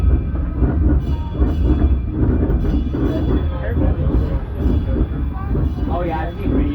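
Steady, loud rumble and rattle from a riding car on the Carillon Park Railroad train, with rhythmic wheel clatter throughout and voices talking over the noise.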